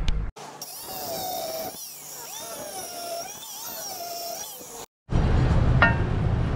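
Bolts being cut off a Ford Fairlane bumper with a power tool, a loud continuous high whine that rises and falls for several seconds, stops abruptly, then gives way to a rougher burst of clanking and grinding noise.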